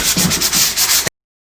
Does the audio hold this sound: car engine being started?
no